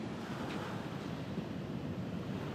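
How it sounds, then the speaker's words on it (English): Surf surges and breaks onto a beach, a close, steady roar of churning water with rough wind buffeting the microphone and no voices. "And I'm about to get hit by a wave."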